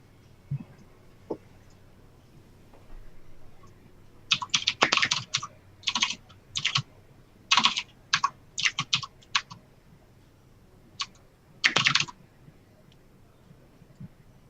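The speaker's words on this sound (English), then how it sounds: "Typing stuff in." Irregular bursts of keystrokes on a computer keyboard, close and clicky, come in quick clusters separated by short pauses over a quiet room background.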